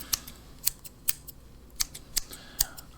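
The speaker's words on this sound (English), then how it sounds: "I'll just use 2 scissors just to be more precise and I suppose accurate with my cutting." Two pairs of scissors snipping hair in a close-up haircut and beard trim: about seven crisp, sharp snips at an uneven pace, very near and clear against a quiet background.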